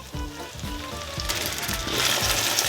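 Eggs cooking on very low heat in a covered pan for a Basque-style pepper piperade, giving a soft continuous sizzle and crackle that grows slightly denser toward the end, close and alone.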